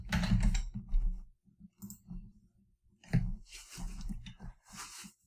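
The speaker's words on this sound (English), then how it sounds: "which is where you're going to want to type in RingCentral" Bursts of clicking keystrokes from a computer keyboard as a name is typed in, close and fairly loud, with short pauses between clusters of taps.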